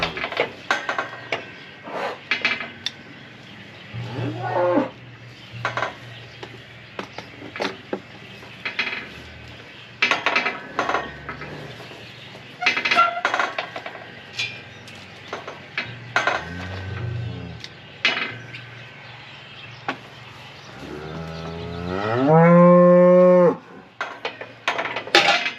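Cattle moo during spring cattle work, with a few short calls and one long, loud bellow near the end, amid repeated metallic clanks and rattles of gates and equipment.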